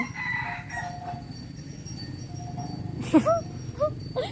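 Background chatter and ambient noise, then a few short, sharp chicken calls near the end, rising squawks in quick succession.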